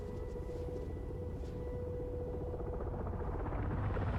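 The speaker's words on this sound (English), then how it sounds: "You can faintly hear the helicopters right now." Helicopters in Arma 3 drone steadily in a military game battle, a continuous low rotor hum with a sustained whine, moderately loud and unbroken throughout.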